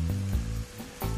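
Chopped bacon frying over softened onion in a pan, a steady close sizzle with low bubbling crackle running through the whole short stretch.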